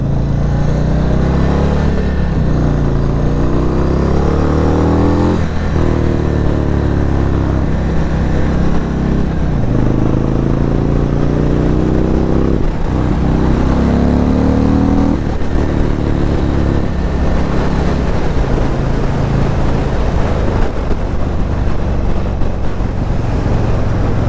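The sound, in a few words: Stage 2 2022 Indian Chief Dark Horse motorcycle being ridden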